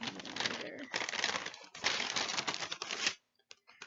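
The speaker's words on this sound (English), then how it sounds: "Sorry about the crinkling, you guys." Loud, close crinkling of a plastic bag being handled, in long rustling bursts with short pauses, ending in a few faint rustles.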